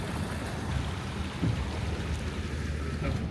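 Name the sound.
vehicle driving through a river in water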